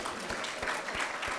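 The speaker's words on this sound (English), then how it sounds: "warm round of applause" A staff audience at a hospital's Halloween all-staff gathering gives a warm round of applause to welcome new employees, a brief, steady patter of many hands at moderate distance.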